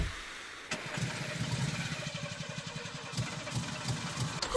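In the Friday the 13th video game, a car engine cranks and catches, then settles into a low, pulsing idle that stays fairly faint and steady for several seconds with no talking over it.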